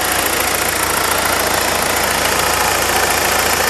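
A 2003 BMW 318i engine idles loudly and steadily nearby, a constant low rumble with a faint rhythmic ticking and no other sounds.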